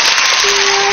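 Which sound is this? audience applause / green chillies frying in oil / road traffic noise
audience applause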